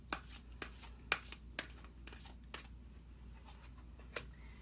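Moonology oracle cards are shuffled in quick, crisp riffles, close and quiet, a series of separate flicks spaced irregularly over a faint steady hum.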